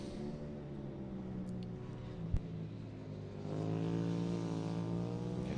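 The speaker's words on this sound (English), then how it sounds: "hear Phoebe there on the brakes and down 3 gears as she gets on the car" A rallycross car at Mondello Park braking and dropping through three gears, heard from a distance as a faint engine drone that shifts pitch, with a sharp pop partway through before the engine note rises again.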